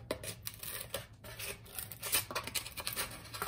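Close scissors snip and crunch through a stiff foam meat tray in short uneven bursts, with scraping and rubbing between cuts.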